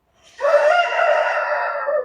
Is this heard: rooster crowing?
yes